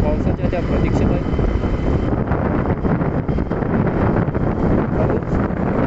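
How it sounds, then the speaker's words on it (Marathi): Strong pre-monsoon wind roars and buffets steadily against the microphone in a dense, loud rumble, with someone talking underneath. "वारा देखील खूप सुटतो आहे."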